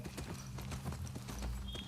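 Horse hooves clip-clop in The Last of Us Part 2 video game, a quiet, steady rhythm of hoofbeats under low background ambience.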